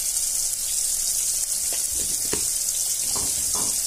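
Half a spoon of ground coriander goes into a hot pan of spices already holding ground cumin, giving a steady, close, loud sizzle with a few soft scrapes and clicks from stirring.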